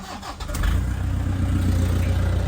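A 2012 Toyota Vigo Champ 2.5 pickup with a loose exhaust pipe cranks briefly, then fires and settles into a loud, steady engine rumble heard close up, with no talking.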